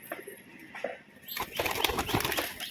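A tumbler pigeon takes off with a short, close burst of rapid wing flaps that rises from quieter rustling into a dense flurry of beats.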